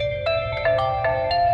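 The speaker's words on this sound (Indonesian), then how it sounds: "HP saya bunyi ya." A mobile phone rings beside a magnetic battery charger, a steady electronic ringtone melody of sustained tones over a low hum, loud and close, with no talking.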